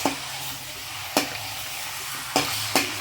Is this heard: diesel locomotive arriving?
no